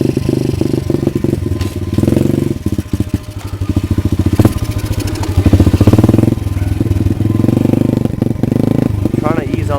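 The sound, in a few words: pit bike engine revving on the throttle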